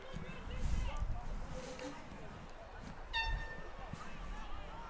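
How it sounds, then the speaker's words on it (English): A spectator's air horn blasts once, loud and clear, across the crowd at a women's college soccer championship semifinal, sounding over a steady murmur of stadium noise and commentary. "Somebody's even got an air horn over there."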